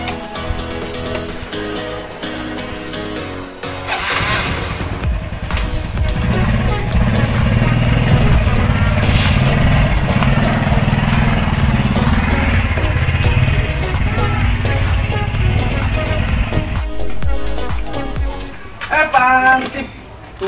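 Motorcycle engine buzzing steadily while riding, rising after a short start and holding a loud drone before dropping off near the end, with people talking over it.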